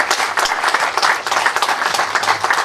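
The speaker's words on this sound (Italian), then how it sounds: "Con un applauso." Loud, continuous audience applause at an award ceremony, many hands clapping densely and steadily for a few seconds with no voices over it.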